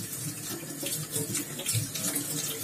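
A kitchen tap runs steadily, giving a continuous close hiss and splash of flowing water with small fluctuations throughout and no voices.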